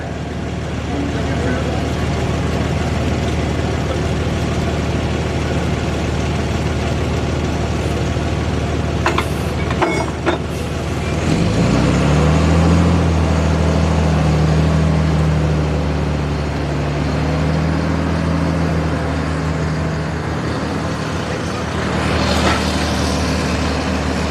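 A Chevrolet drag racing car at a drag strip, a steady background din that swells into a loud, sustained engine drone partway through, with a public-address announcer talking throughout.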